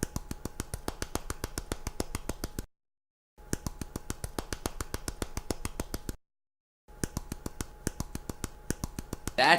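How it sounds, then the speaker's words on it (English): A hand slaps rapidly against a calf, making fast, even runs of crisp, fleshy smacks in three bursts with short silent gaps between, close and fairly quiet, with no voices. "That is the sound of me jamming my hand against my calf."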